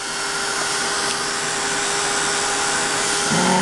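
A heat tool blows steadily while quick-drying a handmade Christmas shaker card, a continuous close whooshing hum that runs alone through the whole stretch, shifting slightly in pitch near the end.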